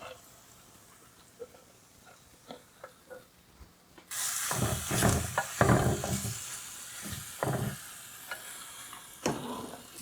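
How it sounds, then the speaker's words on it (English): Meat for a simple Iranian stew drops into a hot pot and starts a loud, steady sizzle, broken by scraping stirs and clatter close by, after a few quieter taps at the start. "Now we add the meat itself."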